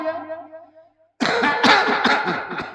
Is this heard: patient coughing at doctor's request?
yes